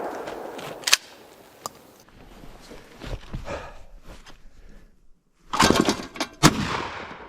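Shotgun blasts at thrown clay pigeons outdoors: a sharp report near the start, another smaller crack, then a loud pair of close shots near the end, with rustling and movement between and no talk.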